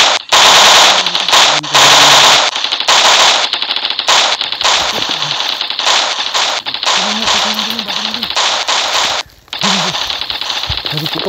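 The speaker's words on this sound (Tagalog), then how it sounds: "Putukan." Loud, close bursts of automatic gunfire, machine-gun fire from soldiers, with rapid rattling volleys that nearly fill the recording and a brief gap near the end, and voices faintly heard between bursts.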